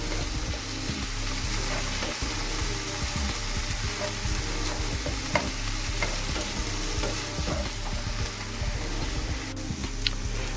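Vegetables for a Mexican-style spaghetti Bolognese, fresh tomato among them, sizzle and simmer steadily in a pan, a dense continuous frying hiss with occasional stirring scrapes and small pops, close and alone with no talking.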